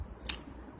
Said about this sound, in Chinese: 先剪。